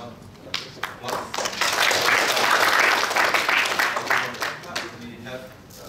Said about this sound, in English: maybe we give Professor Bambang applause